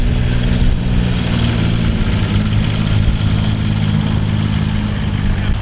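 RT buses pulling up in a line-up at the Detling South East Bus Festival, a steady loud diesel engine rumble with low idling drone and no talk over it.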